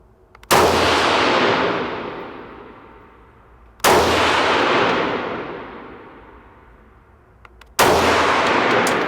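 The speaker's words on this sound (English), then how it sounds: "I will have you rotate to semi-automatic. We'll do 3 shots." A rifle on semi-automatic fires three slow, loud shots a few seconds apart, each a sharp crack followed by a long ringing metallic decay at an outdoor range, with no talk between them.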